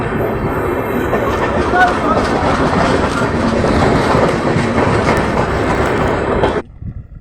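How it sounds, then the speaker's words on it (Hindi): A train rolling steadily onto a loop line in a 3D animation, with continuous loud rumbling and clickety-clack of wheels over rails, ending abruptly. "तो ट्रेन लूप लाइन में चली जाती है"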